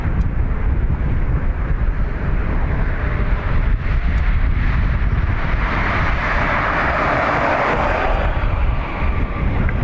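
A jet airliner taking off from Dublin Airport's north runway, a steady loud engine roar with wind buffeting, the pitch rising and swelling toward the end, no voices.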